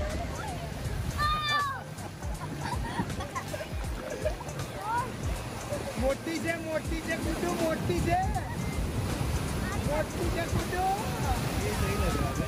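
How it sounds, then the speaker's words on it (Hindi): Ocean surf washes continuously with wind noise at Calangute beach, while people talk and shout in the background, children's voices audible at moments. "हवा और लहरों की आवाज़ आप सुन सकते हैं।"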